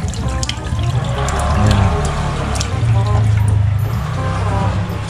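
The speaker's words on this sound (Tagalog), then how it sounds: "Malakas din po ang tubig." Water runs strongly from a tap into a stainless steel sink in an old house being converted into rental rooms. The steady splashing rush is heard close up, with a faint voice underneath.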